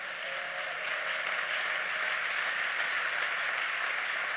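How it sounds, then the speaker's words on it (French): A church congregation applauding and cheering in praise, a dense, steady roar of clapping heard from within the hall, holding evenly throughout. "quelqu'un acclame le Seigneur pour ça"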